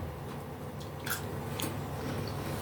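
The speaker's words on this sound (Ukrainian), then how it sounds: "Чуєте хрумкіт?" Crisp bites into a fermented pickled cucumber from a litre jar, a few sharp crunches over a steady low background hum.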